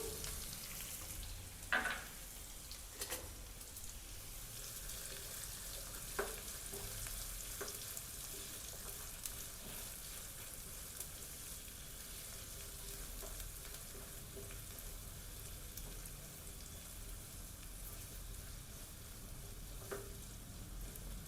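Onions frying in a pan for bhindi masala, a faint steady sizzle with occasional soft stirring knocks, no voices.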